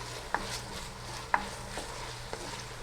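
Chopped white onion sautés quietly in a pan for fresh tomato marinara, a low steady sizzle with a few soft clicks of a utensil stirring.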